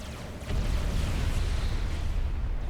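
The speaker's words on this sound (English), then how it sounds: "Structure detonate now." A structure detonates with a deep rumbling explosion in the real-time strategy game Supreme Commander 2, a sudden low boom swelling into a sustained roar that fills the mix without pause.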